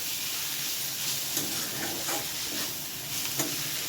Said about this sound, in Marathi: हे परत मिडियम गॅसवर परतून घ्यायचं